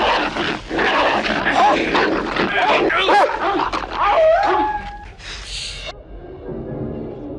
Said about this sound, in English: Two-headed dog?